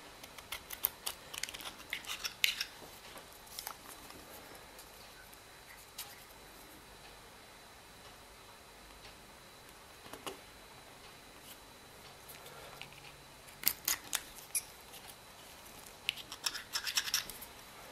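Small snips and scratchy cutting clicks as a cabrette bagpipe reed is trimmed, scattered through a quiet room with bursts of denser clipping near the start and end, close and fairly soft, no talking.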